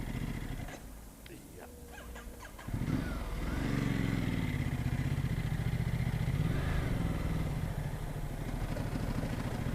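A Ducati Multistrada 1260S motorcycle engine is revved hard to pull away: after a quieter stretch with faint voices, the engine note jumps abruptly and holds loud and steady, close by, for the rest of the clip.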